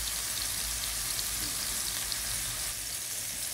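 Chopped tomato and onion sautéing in a pan for a chicken dish, giving a steady, dense sizzle and crackle that stays close and even from start to finish.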